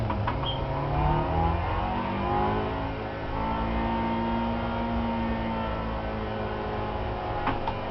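A manual-transmission six-speed car engine drones and shifts pitch while downshifting from third to second, a steady mid-level hum with rising and falling harmonic tones, heard from inside the car with no talking.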